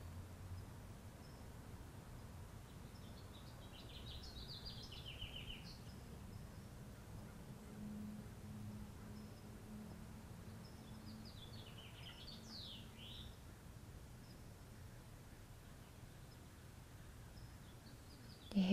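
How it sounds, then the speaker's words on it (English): Faint birdsong outdoors, with a few scattered chirps and short warbling phrases from distant birds over a low, steady ambient rumble. "You hear those birds?"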